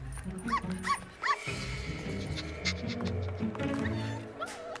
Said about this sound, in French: Ça, c'est mon application de chien.